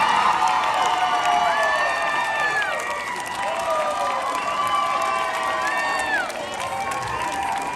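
A crowd at an Elvis Week tribute-artist contest in Memphis, Tennessee, applauds and cheers steadily for the winners, with scattered whoops and shouts rising over dense clapping that holds loud throughout.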